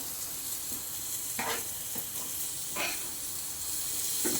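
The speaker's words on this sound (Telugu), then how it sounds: "ఇట్లా వేగిపోతుంది చూడండి బాగా." Semolina, coconut and powdered sugar fry in a pan for laddu, a continuous soft hiss with several brief scraping stir strokes, close and fairly quiet, without speech.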